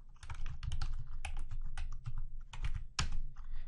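Someone types a command on a computer keyboard in quick, irregular bursts of crisp, close keystrokes with short pauses between them, and nobody talks.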